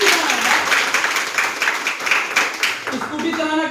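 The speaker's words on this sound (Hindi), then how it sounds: "सर के लिए एक बार जोरदार तालियां।" An audience at a speech gives the speaker a burst of dense, continuous clapping that carries on steadily for a few seconds before a voice begins to cut through near the end.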